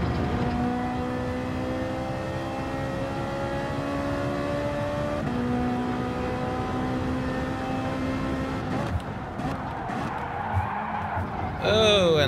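In a racing video game, a car engine whines steadily as the tires skid for several seconds, then a burst of crashing clatter follows near the end, with someone talking over it.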